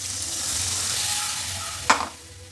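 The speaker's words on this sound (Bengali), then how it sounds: "এবার আমি জল দিয়ে দিচ্ছি" Masala for matar paneer fries in a pan with a steady close sizzle until water is poured in, causing a sudden loud hissing burst that quickly fades to a quieter simmer.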